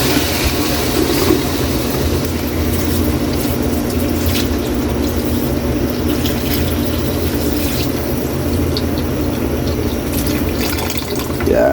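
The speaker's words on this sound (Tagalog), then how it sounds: "Maglagay tayo rito Kayli ng tubig." Water poured steadily into a cooking pot while making lomi, a continuous close splashing and gurgling stream under a low background hum, with no one talking.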